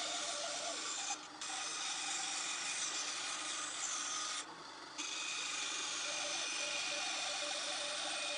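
A power tool cuts steadily through wood for a target-shaped clock, a loud continuous rasping whine broken by two brief pauses.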